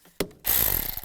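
A hand ratchet tightens bolts on the engine of a 2002-2009 Chevy Trailblazer, giving one sharp click followed by a brief burst of quick pawl clicks, close and quiet.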